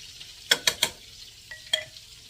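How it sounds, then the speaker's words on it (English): Pork chops in a hot pan give sharp sizzling bursts in quick succession, three close together then two more, with a quiet background between them. "Bet you can hear that there's pork chops sizzling"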